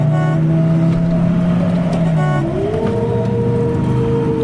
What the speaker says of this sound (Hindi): गाड़ी तेज चल रही है